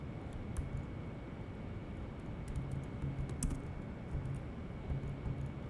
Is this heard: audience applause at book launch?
no